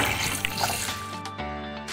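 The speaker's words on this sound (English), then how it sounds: "We shall also put 1/4 liters of water." About a quarter liter of water poured into a cup for a homemade organic pesticide, a steady splashing stream heard close up, changing tone partway through with no one talking.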